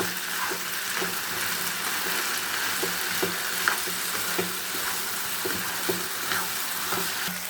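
Potatoes for aloo fry stirred in a hot pan, a steady sizzle with repeated scraping clicks of the spoon throughout, close and even in level.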